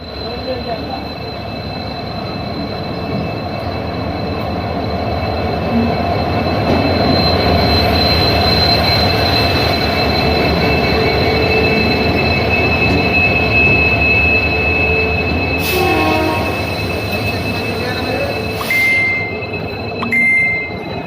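A train runs steadily in sleeper class, heard from inside the carriage as a loud, continuous rumble and rattle of wheels on track, with high squeals and a few sharp metallic clanks near the end.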